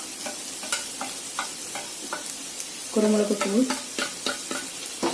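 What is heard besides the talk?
sautéing and stirring prawn gravy masala in a pan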